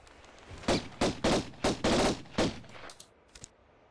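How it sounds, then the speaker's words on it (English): Pistols in a Tomb Raider game fire in a rapid string of about seven sharp, evenly spaced shots, close and loud, trailing off into a couple of fainter clicks. "Pistols went into machine gun mode there for a second"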